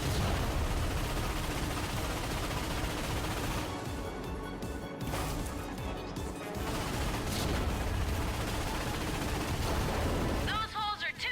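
Cannon fire at warships in the video game Ratchet and Clank, a dense barrage of booming shots and crashing explosions, loud and continuous, with voices talking over the battle.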